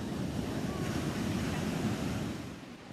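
Ocean waves wash at Cabrillo Beach, a steady close roar of surf with rough wind buffeting the microphone, fading slightly at the end.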